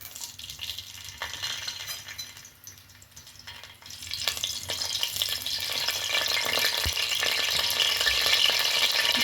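Carrot, green bean and chili vegetables with curry leaves sizzle in hot oil in a pan for upma, the frying hiss growing louder and denser midway, with faint stirring clinks and no talk.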